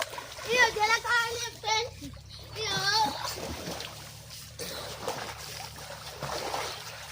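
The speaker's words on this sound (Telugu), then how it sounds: "మేము దగ్గర దగ్గర ఈత కొట్టి రెండు గంటలు అవుతుంది" Children splashing and swimming in a village pond or well on a hot summer day, with bursts of splatter and water movement mixed with kids' voices and chatter throughout.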